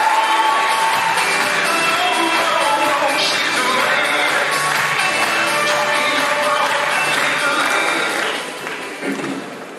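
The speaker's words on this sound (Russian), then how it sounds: "Аплодисменты нашей женщине." A large audience at an intercontinental KVN comedy show in London applauds and cheers loudly for a woman on stage, with a sustained roar of clapping, whoops and shouts that eases slightly at the very end.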